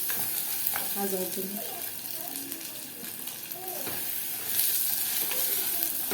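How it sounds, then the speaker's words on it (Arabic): Rice is stir-fried in a pot with onion for a homemade kishk dish, a constant soft sizzle with scraping stirs running throughout while a voice speaks over it. "واشوح الرز كويس كده"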